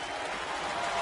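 A baseball stadium crowd at a Tampa Bay Rays versus Toronto Blue Jays game cheers and claps in a broad, steady roar, with no clear voices.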